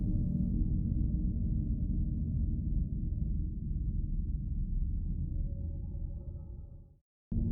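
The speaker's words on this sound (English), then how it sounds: "These are the sounds you hear when booting up Scorn for the first time." Startup sounds of the video game Scorn on first boot: a dark, low rumbling drone with murky textures that fades out and ends with a sharp click.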